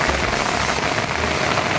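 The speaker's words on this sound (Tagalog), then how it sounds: "medyo naulan, nagpayong na lang ako, inabutan na ako ng ulan dito" Rain pours steadily over a farm in San Francisco, Quezon, a dense, even hiss close by with no pauses across the short stretch.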